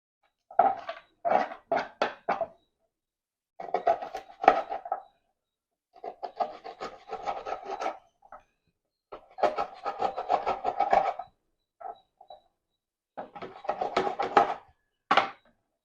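Knife chopping the heads and tails off dry fish on a wooden board, close and crisp, in several bursts of rapid scraping, rasping cuts separated by short silences, with no talking.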